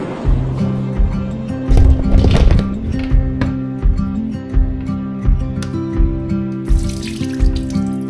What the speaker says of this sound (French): je vais venir la mettre dans une passoire, la rincer sous l'eau